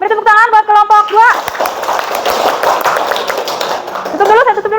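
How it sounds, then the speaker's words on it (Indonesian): Applause from a classroom of students after a student group finishes its presentation, a busy patter of hand claps sounding close and fairly loud, with voices speaking at the start and end. "beri tepuk tangan buat kelompok 2"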